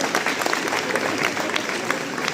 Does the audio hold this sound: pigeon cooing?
no